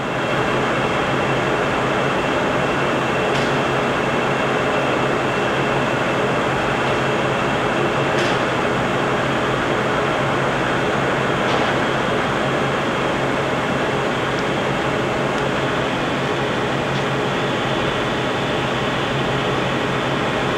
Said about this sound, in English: We've now engaged the lead screw, and he's going to hit the half nut here.